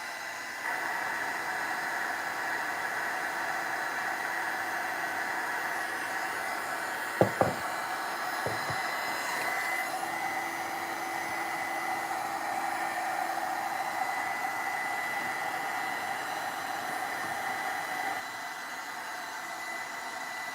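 A handheld dryer blows steadily on an altered art project for about eleven seconds in an apartment, then its tone shifts and it runs on. A couple of sharp knocks sound early on.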